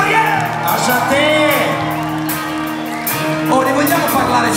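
Audience at a live concert on a music club tour, shouting, whooping and cheering loudly, with a voice talking over the crowd noise throughout.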